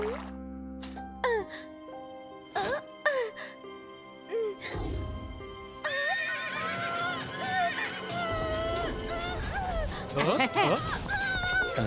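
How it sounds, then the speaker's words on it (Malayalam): A cartoon horse whinnies several times in loud, sharp bursts, then gallops with steady hoofbeats while music plays and voices talk over the action. "കിറ്റി എത്ര മനോഹരമായിട്ടാണ് കുതിര ഓടിക്കുന്നത്."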